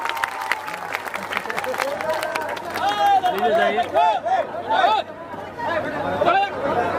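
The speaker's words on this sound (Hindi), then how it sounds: "एक बार ताली बजाकर स्वागत कर दीजिए" An audience at a political nomination rally claps to welcome guests, applause mixed with crowd chatter and hubbub while a voice talks over a loud, steady din.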